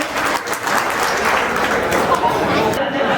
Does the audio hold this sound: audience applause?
yes